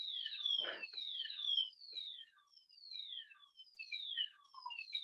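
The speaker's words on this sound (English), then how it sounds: "Can you guys still hear me with the alarm?" An electronic alarm sounds during a lecture on fluid and ion regulation, giving repeated descending chirping tones that sweep downward in steady succession, moderately loud and alone without speech.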